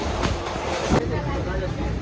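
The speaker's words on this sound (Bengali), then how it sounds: "ঝাড়খণ্ডের পাকুড় স্টেশনে আমাদের ট্রেনটা এখন ঢুকছে" A train rumbles steadily with rolling wheel noise and a brief clank, heard close as it moves slowly into Pakur station in Jharkhand.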